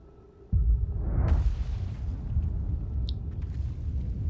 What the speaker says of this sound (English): that's the sound of a supernova.